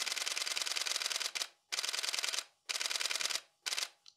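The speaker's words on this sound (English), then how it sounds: "they can't write to the card fast enough and your camera starts to stutter" Camera shutter fires in rapid bursts during continuous wildlife shooting, with four clattering runs of fast clicks separated by short pauses as the buffer fills, the last burst shortest, close and fairly quiet with no talking.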